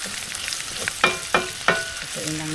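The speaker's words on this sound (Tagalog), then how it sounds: "Lagyan na rin natin ang ating sibuyas." Onions tipped into a pan of frying pork for pork binagoongan, a steady sizzle with a few louder bursts of hissing and stirring clatter, no talking.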